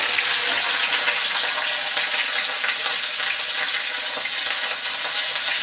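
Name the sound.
okra frying in a pan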